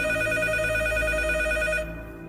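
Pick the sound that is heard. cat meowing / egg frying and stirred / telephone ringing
telephone ringing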